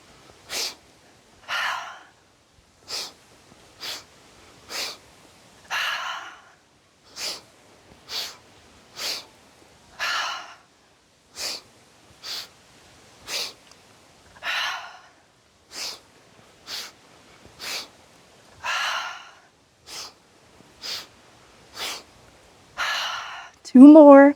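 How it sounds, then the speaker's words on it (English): Rhythmic yoga breathing: a long series of sharp, forceful nasal inhales and exhales repeated at a steady pace, loud and close, with a brief voice at the very end. "Inhale, inhale, inhale, exhale."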